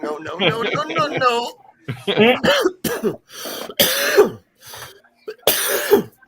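Several short, harsh coughs and throat clearings burst out between bits of conversational speech, close and loud.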